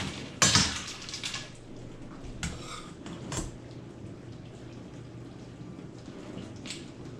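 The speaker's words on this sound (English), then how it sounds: "And just stirring these up into the ice water." Food is stirred in a bowl of ice water, giving sharp clinks and clatters of ice and utensil against the bowl, a loud knock near the start, then scattered softer sloshes and taps, fairly close.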